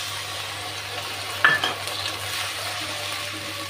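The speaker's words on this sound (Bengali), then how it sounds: "এখন গুলে রাখা মশলাটা দিয়ে দিচ্ছি।" Spice paste mixed with water hits fried onions in a hot pan and sizzles steadily while being stirred, with a spoon clattering against the pan partway through.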